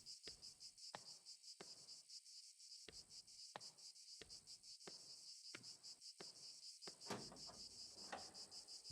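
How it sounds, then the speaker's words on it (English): Loud cicadas in a video game, a dense high-pitched buzzing drone pulsing in steady rhythmic beats, with sharp clicks at regular intervals and no one talking. "Those are some loud fucking cicadas."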